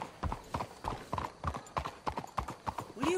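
Horse hooves clip-clop in the video game Red Dead Redemption 2 in a steady walking rhythm of evenly spaced, fairly close hoofbeats, with a short whinny-like sound near the end and no clear talk.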